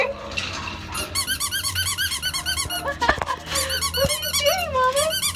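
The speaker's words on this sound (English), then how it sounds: "she just went into a whirlwind when she heard the squeaker" A dog's squeaky toy squeaks in rapid, repeated bursts at a shelter, close and loud, with a few sharper clatters partway through.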